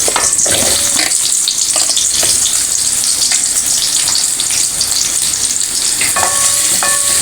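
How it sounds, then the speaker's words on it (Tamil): Onions sizzling steadily in a little hot oil in a pan, a continuous loud frying hiss with occasional stirring scrapes, for Indian hotel-style paneer butter masala. "கொஞ்சோண்டு எண்ணெய் ஊற்றிக்கும். வெங்காயத்தை போட்டலாம்."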